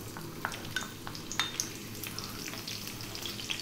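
Sunflower oil sizzles and crackles softly in a wok over high heat, a faint steady fry with scattered small pops and light stirring clicks, no voices.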